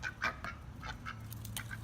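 A duck at a park pecking up bread crumbs gives faint, repeated short honking quacks at an irregular rhythm over a low rumbling outdoor background.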